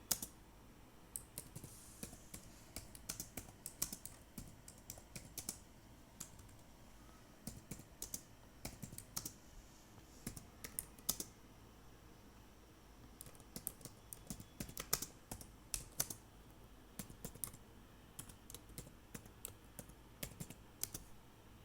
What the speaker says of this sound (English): So start typing your paragraph.